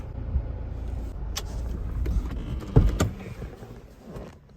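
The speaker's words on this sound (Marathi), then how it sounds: "चला आता डायरेक्ट गाडी मी आतमध्ये पार्किंगमध्ये" A car is driven into a parking space, its engine a low steady rumble with a couple of sharp clicks and a brief louder thump midway before the sound eases off.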